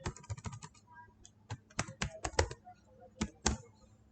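Rapid keystrokes on a computer keyboard, irregular clicks and clacks in short bursts with pauses, close and clear with no voices.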